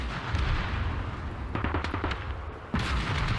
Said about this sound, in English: Sounds like an AA gun somewhere.